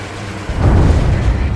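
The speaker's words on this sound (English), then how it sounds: "A huge explosion just went off underwater." A huge underwater explosion goes off in Ace Combat 7: a deep, heavy boom swells suddenly after a quieter start, then rumbles on loudly for about a second.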